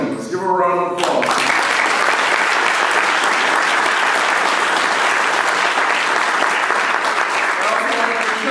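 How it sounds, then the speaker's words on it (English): A union convention audience breaks into a loud, sustained round of applause that swells right after a brief spoken phrase and carries on evenly for several seconds. "Give her a round of applause."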